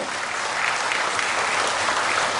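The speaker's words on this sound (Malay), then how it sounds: "Kita bagi tepukan kepada arwah Tun" Sustained, dense audience applause fills a hall at a political speech, a steady wash of clapping hands that holds at an even loudness throughout with no voices standing out.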